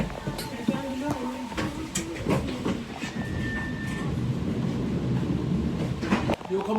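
Train interior with steady rumble and rail noise running on the tracks, a brief high whine midway, with people talking in Danish over it.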